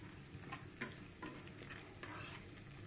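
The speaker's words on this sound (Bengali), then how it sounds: "এটা আগে পেঁয়াজের সাথে ভালো করে ভেজে নিব" Spices fry with onion in oil for a deshi chicken curry, a faint, steady sizzle broken by a few soft clicks and scrapes of stirring.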